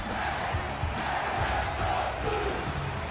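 Hockey crowd at a St. Louis Blues game chanting, a dense continuous roar of many voices filling the arena at steady loudness; no distinct horn blast stands out.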